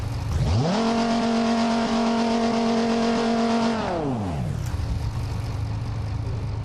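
A Chevrolet COPO Camaro engine in BeamNG.drive revs up, holds a steady high drone for a few seconds, then winds down, with a constant noisy background throughout.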